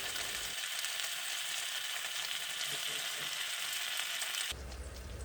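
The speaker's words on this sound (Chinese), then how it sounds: "就用余温继续煎。" A Taiwanese egg pancake roll with leaking jam keeps frying in a pan on residual heat after the burner is switched off. A constant bright sizzling hiss runs close by, then drops and changes abruptly near the end.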